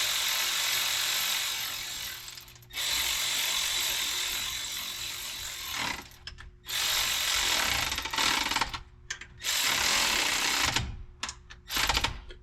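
A torque wrench ratchets steadily on Oldsmobile rocker arm bolts in a 1968 G20 van engine, set to 25 pounds: long runs of close, dry clicking, near and fairly loud, broken by short pauses between passes.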